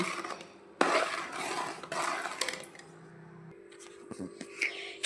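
Flour being stirred into hot sugar syrup in a pot, a spoon scraping and clinking against the metal in bursts, fairly close, with a brief low hum partway through.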